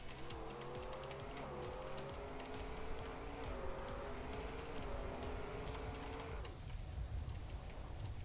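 Desert Car racing in Trackmania, with a steady engine drone whose pitch climbs and drops through repeated gear shifts, plus tire noise, continuous and loud for the whole run before the engine tone cuts out near the end.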